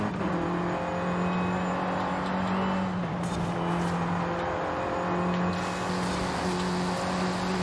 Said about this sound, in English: It's a nice little single turbo rasp.